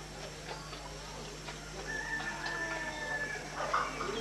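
Chickens raised in a Bidayuh village give faint, intermittent clucks and a short crowing call over steady background hum, the birds sounding fairly distant.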